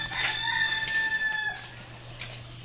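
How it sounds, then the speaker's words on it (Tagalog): A backyard rooster crows once, close and clear, its drawn-out call fading after about a second and a half, with quiet farmyard background afterward. "nag-alaga din ako ng manok, guys, simula nung lockdown"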